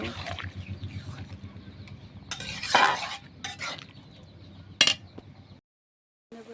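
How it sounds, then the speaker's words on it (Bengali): Beef tripe with potatoes and fat being stir-fried in a pot, a utensil scraping and clinking against the metal in bursts over a low sizzle, with a few sharper clanks before a brief pause. "এখন আগে থেকে কেটে রাখা আলু ও চর্বিগুলো দিয়ে দেব। দিয়ে এখন ভালোভাবে কষিয়ে নেব।"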